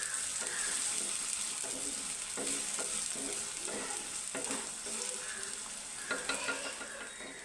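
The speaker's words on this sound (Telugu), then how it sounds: "ఉల్లిపాయలు అయితే వేసుకున్నాం. కొద్దిగా గోల్డ్ కలర్ వచ్చేదాకా వేసుకున్నాం." Chopped onions sizzle and fry in hot oil in a pan until golden, a steady close crackle with occasional stirring scrapes and no talking.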